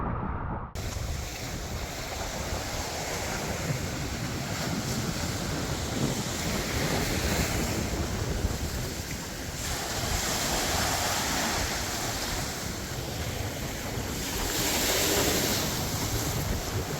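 Ocean waves washing onto a beach at Tayrona National Park, Colombia, a continuous rolling surf with broad swells and wind rumble across the whole stretch, no voices.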